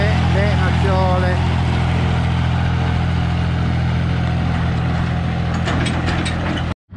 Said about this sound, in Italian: Ecco qua quel muletto che traina il trattore, il rimorchio